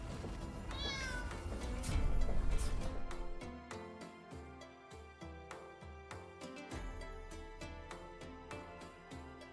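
Game cats in Pompeii: The Legacy give a couple of meows early on, rising above rhythmic background music that continues with plucked, regular beats.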